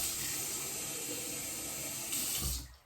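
Water runs steadily from a tap or sprayer while a mannequin head's hair is wetted for a 90-degree haircut, a continuous close hiss of flow that swells near the end and then cuts off abruptly.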